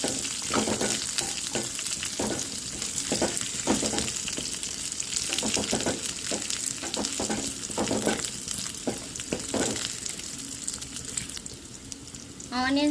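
Finely chopped onions frying in a pan, a soft, continuous sizzle with frequent scraping stirs of a spoon in an irregular rhythm, heard close but at modest volume.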